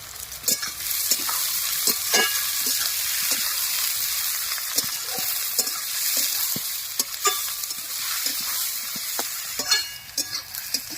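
Dried red chillies fry in hot oil with onions in a pan, a steady crackling sizzle broken by frequent short clicks and stirring scrapes of a spatula, heard close with no talking.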